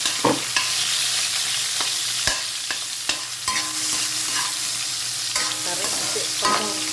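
Sardines and odong noodles are stirred and sautéed in a hot pan, giving a steady, close sizzle broken by scraping and clattering strokes of the spatula.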